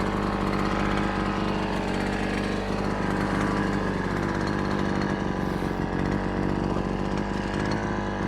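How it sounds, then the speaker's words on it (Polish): A clunky lawn mower cuts slightly wet grass, its engine roaring loud and close in a steady, continuous drone. "Super się tą kosiarką nie kosi, bo ona jest taka, wiecie, toporna trochę."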